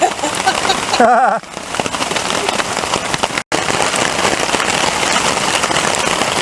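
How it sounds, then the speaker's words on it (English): Steady rain patters on a shelter over a hammock in the wilderness, a dense continuous hiss with brief crackles, one short near rustle early on and a momentary dropout midway. "It's still raining."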